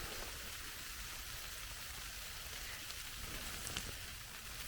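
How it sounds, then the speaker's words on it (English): Freezing rain and ice pellets patter without a break on a hot tent during a snowstorm, a dense, even hiss that holds at the same level throughout, with no voices. "So that freezing rain and ice coming down"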